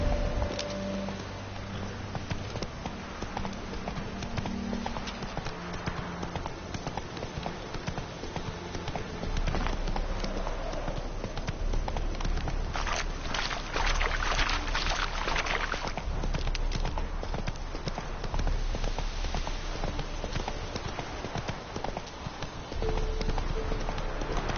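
Roach, Geralt's horse in The Witcher 3: Hearts of Stone, trots along with a steady, continuous clip-clop of hooves under soft in-game ambience.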